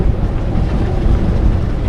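Strong wind gusts above 50 km/h buffet an anchored 26-foot sailboat on Lake Ontario, a loud continuous roaring rumble of wind against the microphone and hull, steady throughout with no talk.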